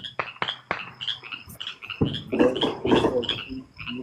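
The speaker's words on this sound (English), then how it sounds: "Look at those little froggies." Small frogs croak and chirp in a rapid, irregular chorus, close and fairly loud, with sharp clicky calls early on giving way to denser overlapping croaking.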